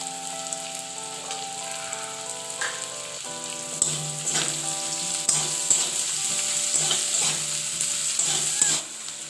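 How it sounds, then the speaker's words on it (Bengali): Sliced onions with salt frying in oil in a pan for a Bhola fish curry, a steady close sizzle with stirring scrapes and crackles, under a faint background hum. "এই পেঁয়াজের মধ্যে আমি দিয়ে দিচ্ছি নুন। এই নুনটা দিয়ে দিলে পেঁয়াজটা একটু তাড়াতাড়ি ভাজা হয়ে যায়।"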